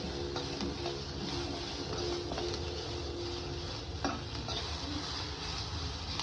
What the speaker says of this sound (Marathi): कांदा असं लालसर होईपर्यंत चांगला भाजून घ्यायचा